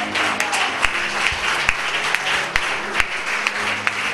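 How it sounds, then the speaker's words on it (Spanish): A church congregation at a prophetic service applauds loudly, with dense clapping and sharp louder claps punctuating it about every half second, mixed with low musical tones and no speech. "dale un aplauso fuerte"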